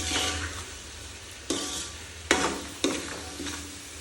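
Bataka poha being stirred and mixed in a pan, with a soft background sizzle and a few sharp scrapes of the spoon against the pan, about three distinct strokes, close and fairly loud, with no talking.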